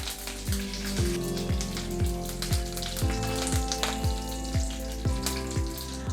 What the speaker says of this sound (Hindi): राई भी स्प्लटर हो रही है। अब जाएगा इसके अंदर कड़ी पत्ता।